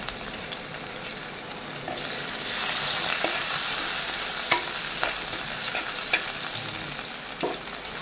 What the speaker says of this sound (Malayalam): ചട്ടി ചൂടാക്കി അതിനകത്തേക്ക് ആവശ്യത്തിന് വേണ്ട വെളിച്ചെണ്ണ, പച്ചമുളകും, ഇഞ്ചിയും, അതുപോലെ തന്നെ കുറച്ച് വെളുത്തുള്ളിയും കൂടെ ഞാൻ ഇട്ട് കൊടുത്ത് ജസ്റ്റ് ഒന്ന് ഇളക്കി കൊടുക്കുന്നുണ്ട്